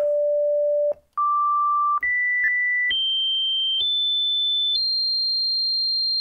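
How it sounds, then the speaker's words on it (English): A pure, steady sine tone from a Novation Peak synthesizer steps upward in pitch several times, each note held about a second, clean and loud with no other sounds. "let's start with the sine wave. Nice clean shape."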